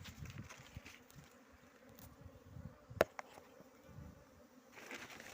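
Honeybees buzz at a hive during spring hive management in Nevşehir, Turkey, a soft, continuous drone, quiet and steady, with one sharp click partway through.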